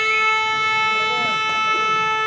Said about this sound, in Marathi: भोंगा वाजतोय रायवाड संघाकडून